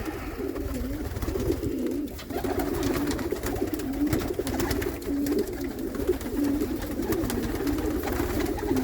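Pigeons coo continuously in a coop in low, throaty, overlapping calls, close and fairly loud, with no one speaking.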